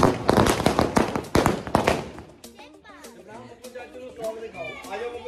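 Firecrackers burst in a rapid crackling string at a Gurupurab celebration, loud sharp pops for about two seconds, then fading into scattered distant bangs as people talk nearby.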